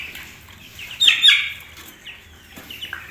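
Baby chicks on their eighth day peep shrilly as one is picked up for weighing, a loud cluster of close chirps followed by several fainter, scattered peeps.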